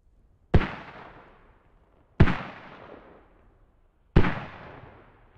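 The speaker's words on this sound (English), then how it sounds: "Mortar's going down." Three mortar rounds from the military video game Squad booming one after another, roughly every two seconds, each a sharp heavy thump with a long fading rumble and nothing else audible between them.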